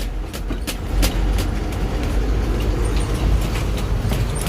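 A container train rolls past close by: a steady, heavy low rumble with sharp rhythmic clacks of wheels over rail joints, continuous throughout.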